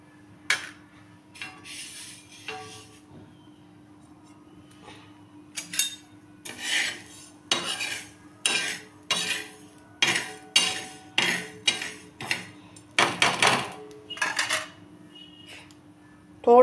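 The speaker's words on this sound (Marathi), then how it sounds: "इथे बघा कमी आचेवर आपण मोहरी भाजून घेणार आहोत।" Mustard seeds and whole spices such as cloves, pepper and coriander are dry roasted in a pan over low heat, with scattered scraping and rattling strokes that grow into a regular series of stirring rasps, fairly close.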